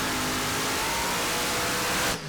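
Pulling tractor in a tractor pulling run at the Bernay Eurocup, its engine roaring loud and sustained at high revs before cutting off abruptly near the end.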